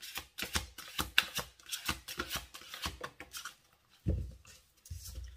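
Tarot cards being shuffled close by, a quick run of papery riffles and soft slaps in irregular bursts, fairly quiet, followed by a brief thud as the deck settles, with no talking.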